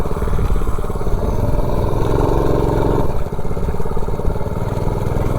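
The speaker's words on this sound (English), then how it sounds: "let me run it back up the street here real quick and I'll grab that top speed" A vehicle powered by a Predator 212 engine runs up a street at top speed, its small engine droning loud and steady with a buzzy, pulsing tone and a brief dip partway through, and no voices.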